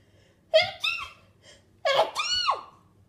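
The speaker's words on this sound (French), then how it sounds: "Attends, je vais éternuer." A sharp intake of breath and a voiced burst, then a second louder breathy sneeze-like outburst, close and alone in a quiet room.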